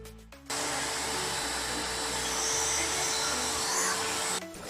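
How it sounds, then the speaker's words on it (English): A Shop-Vac Compact wet/dry vacuum switches on and runs with a loud, steady motor whine and airflow hiss for about four seconds, then cuts off near the end, with no talk over it. "this little vacuum is very powerful and it does a great job for any jobs you need"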